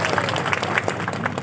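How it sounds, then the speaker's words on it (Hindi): A crowd applauds to welcome a minister at a Chhattisgarh public event, steady scattered clapping at moderate volume throughout, with faint voices underneath. "छोटे जोरदार ताली बजाओ, स्वागत करो"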